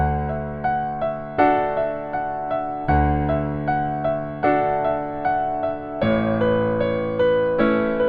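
Piano playing a song with both hands, a low left-hand chord struck every two beats under a right-hand melody, with clear repeated attacks that decay between strikes, steady and close with no talking.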